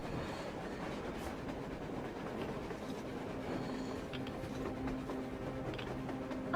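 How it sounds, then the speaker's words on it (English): A train rumbles past on the surface in Metro Exodus, a steady, fairly loud rolling roar with a faint rhythmic clatter and a thin metallic squeal toward the end, heard without any talking. "A train! A damn train on the surface!"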